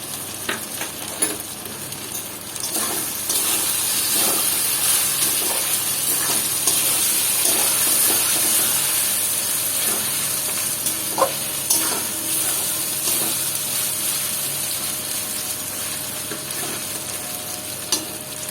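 Chopped tomato sizzling in oil in a pan for Bengali-style tender mutton curry, a steady bright hiss with occasional stirring scrapes and small pops, close up with no talk.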